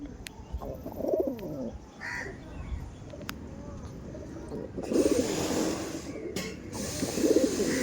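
Chotiyal pigeons in a loft coo softly and steadily, with crows cawing now and then and a low, busy outdoor hum behind them.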